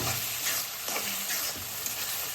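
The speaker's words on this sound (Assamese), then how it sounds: "এতিয়া মই মটৰ মাহকেইটা ঢালি দিলোঁ।" Green peas tipped into a hot frying pan of curry, giving a dense close sizzle with a soft rattling spill and light stirring throughout.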